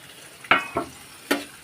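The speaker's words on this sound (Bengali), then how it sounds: "অ্যাড করে নেড়ে দেবো ফুলকপি আলুগুলো হালকা হালকা লাল করে ভেজেছি" Cauliflower florets and potato pieces, fried light brown for khichuri, are stirred in a hot pan: three sharp scraping bursts over a low background sizzle, up close and without speech.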